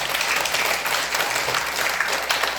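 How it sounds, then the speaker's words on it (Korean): Church congregation clapping during a service, a dense, steady burst of applause from a roomful of people, close and fairly loud for a few seconds. "주님 박수를 보내고"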